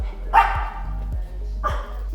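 A 12-year-old dog barks twice, nearby and loud, with a steady low hum and soft thumps beneath during an HVAC service call.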